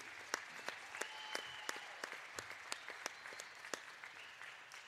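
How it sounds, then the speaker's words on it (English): Sparse, scattered clapping from a small crowd at a girls' varsity basketball game, distant and thin, with individual claps standing out irregularly. "Please join us in giving these officials a round of applause for all they do."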